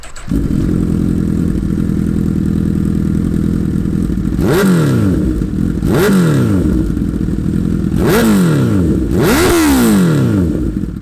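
A Honda CB1000R motorcycle with an Akrapovič full exhaust system idles loudly and steadily, then revs sharply four times in quick bursts, each rising and falling back to idle.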